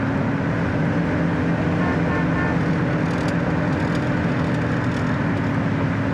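A 1969 Mercury Cougar XR7 convertible cruising at highway speed, with steady road and engine rumble plus wind noise holding constant throughout, close and continuous.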